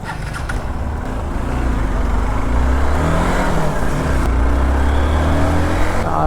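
A Hero Xpulse Pro motorcycle, freshly serviced with new oil and a chain set too tight, runs on a test ride, its engine a loud, steady, close drone that builds slightly and holds throughout.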